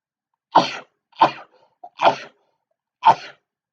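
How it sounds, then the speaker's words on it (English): Four short, sharp bursts, sneezes or coughs, spaced about a second apart, loud and close with silence between. "I'm going to sneeze."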